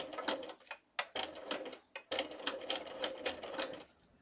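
Rapid mechanical clatter of a sewing machine stitching slowly through a die-cut doily, running in short bursts with brief pauses between them, close and fairly quiet.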